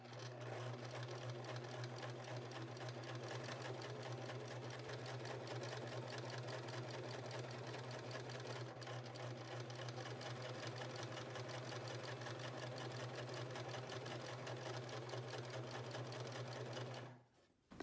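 A sewing machine stitches fabric for a backless crop top, running steadily and close for about seventeen seconds with a strong, even motor hum and rapid needle rhythm, then stopping abruptly at the end.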